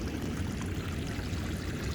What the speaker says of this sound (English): We have some type of water leak.